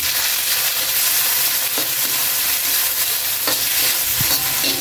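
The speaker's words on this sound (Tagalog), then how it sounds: "Igisa lang natin siya hanggang lumambot na maluto siya mga bor." Chopped tomatoes sauté in hot oil in a pan with a loud, continuous broadband sizzle, close and steady throughout, with a few brief clicks of a utensil stirring, no talking.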